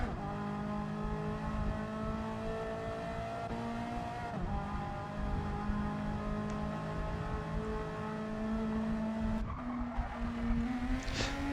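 A Honda Civic race car laps a circuit, its engine droning steadily with rising and falling revs, close and loud throughout, with a brief tire squeal near the end.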